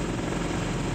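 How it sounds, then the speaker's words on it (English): A helicopter in the Call of Duty Mobile battle royale glitches into a dense, loud, unbroken rotor-and-engine roar that fills the whole moment up close. "I love when the helicopter sound glitches. It's such a good sound."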